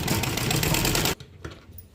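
A sewing machine runs a double seam on a dhoti salwar, a loud close whirring stitch burst lasting about a second, then it stops abruptly and leaves only faint room noise.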